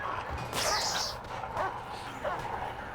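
Dogs barking and yelping at a prisoner in the prison-management video game Prison Architect, a few sharp yips and a whip-like crack over a busy background of game sound.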